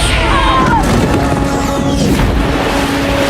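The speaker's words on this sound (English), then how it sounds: "Look at these explosions." Explosions from the 1998 film Star Trek Insurrection, a loud, dense rumble of booms and crashing debris sustained for a few seconds with whistling effects woven through.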